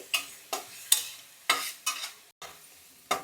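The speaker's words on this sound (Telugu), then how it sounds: "ఉల్లిపాయలు బాగా వేగిపోయినాయి కదా." Onions frying in a pan for kabab chicken pepper fry, heard as a series of short, sharp sizzling bursts about every half second as the onions are tossed or stirred, close by with quiet gaps between, no talking.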